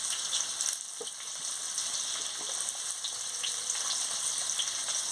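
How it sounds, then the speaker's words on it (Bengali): Potatoes frying in oil in a pan for a Bengali katla fish curry, a steady, close, broadband sizzle that holds evenly throughout with faint crackles and no talk. "এবার আমি আলুটা দিয়ে দিচ্ছি, দিয়ে ভালো করে ভেজে নিচ্ছি।"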